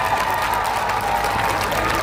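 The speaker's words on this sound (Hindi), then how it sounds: "जोरदार तालियां मेरी तरफ से एक बार" Audience applause at a school annual day function, steady and dense clapping from a large crowd filling the whole stretch without a break.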